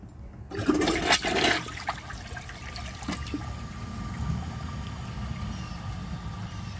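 A Glacier Bay high-efficiency toilet gives a short flush: an initial rush of water in the first two seconds, then a steady, quieter trickle and refill that carries on without siphoning, with no talking.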